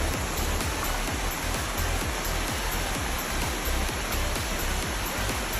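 Tao Dam waterfall in Kamphaeng Phet, Thailand, roars as a steady, dense broadband rush of falling water, loud and continuous throughout with no voices over it.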